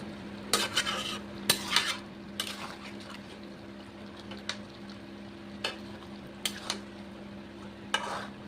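A spoon scrapes and stirs chicken bhuna in a pan over a low gas flame, with sporadic sharp clinks against the metal over a soft steady sizzle, close and fairly quiet.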